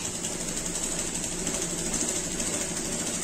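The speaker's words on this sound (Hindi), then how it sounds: "ये देखिए मैं सिलाई लगा रही हूँ" A sewing machine stitches a saree, running in a steady, fast, continuous whirring hum at close range throughout, with no speech.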